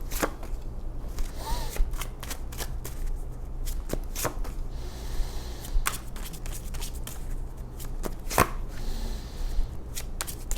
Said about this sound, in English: Let's pull the rest of these cards here.